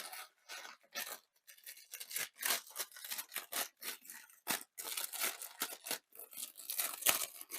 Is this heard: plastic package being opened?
yes